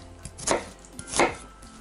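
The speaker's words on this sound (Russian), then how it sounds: "для начала нам нужно нарезать лук" A knife chops an onion on a board in a kitchen, two firm cuts with lighter taps between them, close and distinct with no talking.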